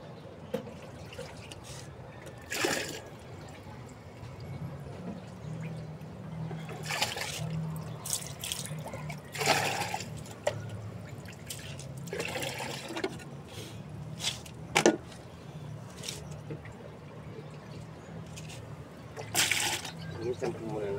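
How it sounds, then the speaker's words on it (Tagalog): Water sloshes, trickles and drips as a catfish tank is drained and refilled with clean water, with scattered splashes of varying strength throughout. Someone talks over the water sounds. "Tanggalin natin ang tubig, palitan, para palagi silang masigla."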